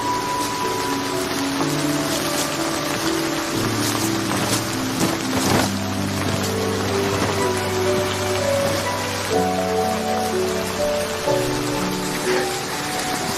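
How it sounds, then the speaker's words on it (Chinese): Rain falls in a steady, even hiss across the whole stretch, with sustained music tones playing over it throughout. "下雨了"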